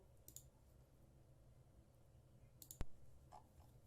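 Computer mouse clicking while navigating a web page builder, a few light, quiet clicks spaced apart, with one sharper click standing out near the end in an otherwise quiet room.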